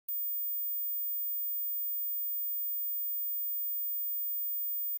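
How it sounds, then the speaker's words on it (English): A steady, pure high-pitched test tone holds unbroken at constant level for about five seconds, starting and stopping abruptly with nothing else around it. "they can't hear this high-frequency sound"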